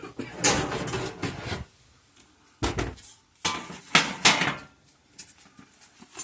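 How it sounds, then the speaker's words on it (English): A metal sheet pan is handled in a kitchen, with several bursts of clattering and rattling separated by quiet pauses. "Now, I'm going to take a sheet pan."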